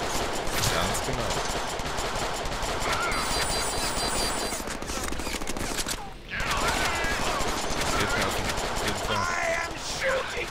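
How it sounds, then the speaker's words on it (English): Sustained automatic gunfire from the Deadpool video game, dense rapid bursts filling the whole mix with a brief dip near the middle, alongside game sound effects and voices talking over the action. "I am shooting you!"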